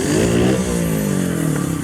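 A trial motorcycle at an indoor truck show revs hard as it climbs a pyramid obstacle, a loud close engine note rising and falling in short bursts with some clatter.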